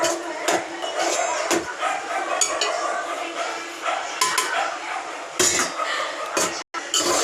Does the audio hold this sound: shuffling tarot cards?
no